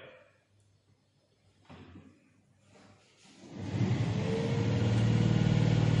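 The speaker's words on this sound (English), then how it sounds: "Right, now motor is starting." A DC motor coupled to a DC generator in a lab starts up, its hum and whir rising from near silence to a loud, steady drone over the last seconds.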